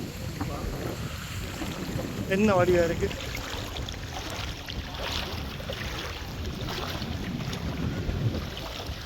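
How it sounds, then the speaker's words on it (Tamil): Strong wind buffets the microphone beside the water at Palm Beach Crater in Sri Lanka, a steady broad roar throughout, with people talking over it. "நல்ல காற்றடிக்குது."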